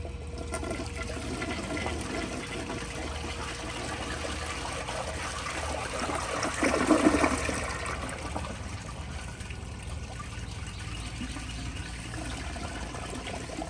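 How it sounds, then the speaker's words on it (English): A 1992 Kilgore Argus toilet flushing, a low steady rush of water with a brief louder gush in the middle before settling back into a continuous trickle and refill. "let me turn it up just a tad bit more and flush it again"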